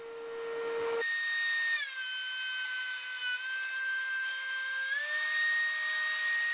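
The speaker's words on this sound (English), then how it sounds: "the last step is to go to the table saw and rip to final width, which is what I'm doing here now" Table saw ripping lumber to final width, a steady high-pitched motor whine that rises as the blade bites into the wood, dips under load for several seconds, then climbs back as the cut finishes, loud and close with no talking.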